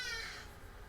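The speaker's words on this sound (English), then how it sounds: "ha-de-da, the birds outside are very noisy" Hadeda ibis calling outside in Johannesburg, a single harsh, raucous caw fading within half a second, heard indoors at moderate distance with no talk over it.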